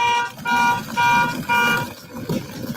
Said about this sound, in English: Why don't you press the alarm on the car?